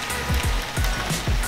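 Heavy rain pours down outdoors during a car body kit install on a Lexus IS300, a dense steady hiss with a few low thuds of drops striking nearby.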